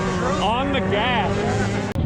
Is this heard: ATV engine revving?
yes